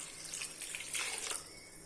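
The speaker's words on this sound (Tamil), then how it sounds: "அடுத்தது இது வேகிறதுக்கு தண்ணி ஊற்றிக்கலாம்." Water pours steadily into a cooking pot for drumstick-leaf greens, a soft, close splashing stream that lasts the whole short moment.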